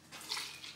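Vanilla vodka poured into a glass gives a brief, soft, close splashing trickle lasting under a second, quiet and alone.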